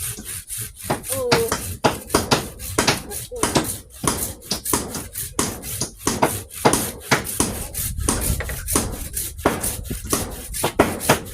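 A hand saw cuts through a wooden post for a house in quick, rhythmic back-and-forth strokes, close and rasping, with faint voices in the background.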